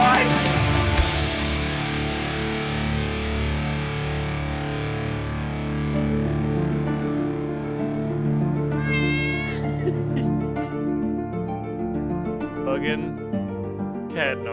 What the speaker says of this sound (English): Fucking cat noises.